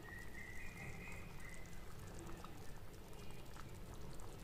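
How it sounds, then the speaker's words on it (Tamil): Spiced ground-paste mackerel (ayila) fish curry simmering in a pot, giving a faint, continuous bubbling hiss with soft pops and no voices. "இப்போ 5 நிமிஷம் நல்லா கொதிச்சிருச்சு"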